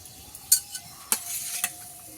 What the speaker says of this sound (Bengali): ফোড়নটা ভালোভাবে ভাজা হয়ে গিয়েছে